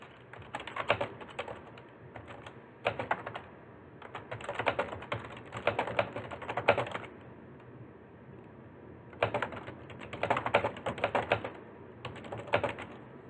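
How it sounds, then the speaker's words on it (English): Bursts of quick clicking keystrokes on a computer keyboard, coming in spurts with short pauses, close and fairly quiet. "I'm just typing something out."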